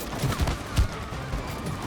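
Game gunfire from It Takes Two: a steady rattle of rapid shots with a few heavier bursts, fairly loud and continuous for under two seconds, with no talk over it.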